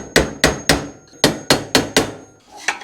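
Repeated hammer strikes on a screwdriver driving a KTM 250 SX linkage bearing out against a supporting wooden block, in two bursts of three and four sharp close blows with a short pause between.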